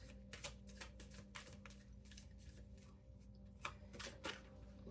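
Tarot cards are shuffled close by in quick, rhythmic riffling bursts over a low steady hum, repeating across the whole stretch without any talking.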